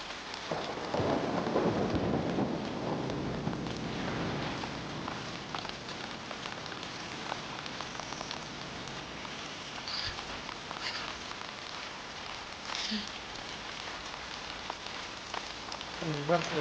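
Rain falls in the video game Death Stranding 2: On the Beach, a soft steady hiss of drops with occasional rumbling and scattered splashes behind it, holding at a moderate level throughout.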